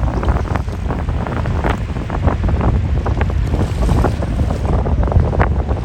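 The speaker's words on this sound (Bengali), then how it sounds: "অনেক বড় বড় ঢেউ এবং প্রচণ্ড ঠান্ডা পানি" Large waves of the cold Arabian Sea roll and crash in a loud, continuous roar, with heavy wind buffeting the microphone throughout and no talk.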